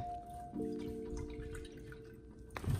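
Fresh water poured for leopard geckos in a new tank setup: a brief trickle and drips, close and fairly quiet, with a steady hum underneath and a faint knock at the end.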